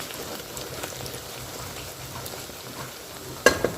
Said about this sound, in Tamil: இப்போ வெங்காயம் நல்லா வதங்கிட்டு இருக்கு